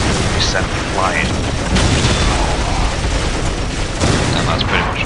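Cannon blasts and explosions in Dawn of War keep booming through a dense, continuous battle din of gunfire and blasts, loud and close, while a voice talks over the clamor.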